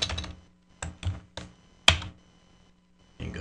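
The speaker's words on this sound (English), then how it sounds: "You would go and type in" Keys clack on the small physical keyboard of a BlackBerry Curve phone, a few close, crisp bursts of rapid taps separated by short pauses, with one sharper click midway.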